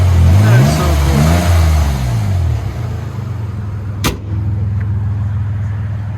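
A 1995 Nissan Cedric with a 3.0L VQ30 V6, resonator removed and 2.25-inch pipe into a DTM muffler, revs loudly and close by in rising and falling sweeps, then settles into a steady drone; a brief sharp click cuts in partway.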